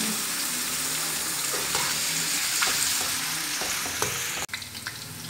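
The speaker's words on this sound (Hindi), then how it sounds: "अब इसके अंदर प्याज डाल देते हैं और प्याज को होने देते हैं ब्राउन" Onions fry in oil until brown, giving a continuous close sizzle with scattered clicks and scrapes of stirring. Near the end comes a sudden sharp knock, followed by a brief drop in the sound.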